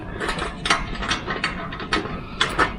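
A metal nut being spun onto a bolt of a raised garden bed kit outdoors: quick bursts of close, rattling ratchet-like clicks, several short runs in a row with brief pauses between them.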